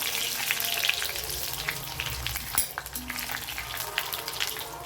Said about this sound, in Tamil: இப்போ நான் வரமிளகாய் போட்டுறேன்.